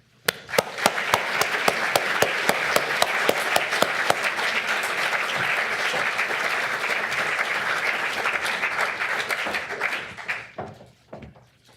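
Audience at a climate change lecture in London breaks into sustained applause welcoming the speaker, dense steady clapping from a full room for about ten seconds before tapering off into a few last claps.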